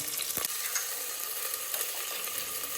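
Onions and green chillies sizzle in hot tempering oil with cinnamon and clove for carrot rice, a steady close crackle with a brief stirring scrape near the start.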